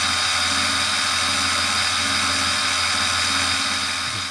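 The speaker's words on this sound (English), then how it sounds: "So it's only a 6 millimeter end mill, I've got a lot of steel to go through" A 6 mm end mill cuts through steel in a continuous, loud, even grinding whine with a low motor hum beneath, steady throughout.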